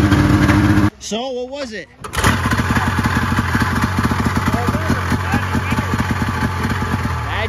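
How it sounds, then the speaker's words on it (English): A vintage 1972 single-cylinder TNT snowmobile engine runs loud and close with a rapid, uneven putter, briefly cut by a short quiet moment with a voice, then resuming steadily as people talk over it. "Nice single cylinder TNT, 1972."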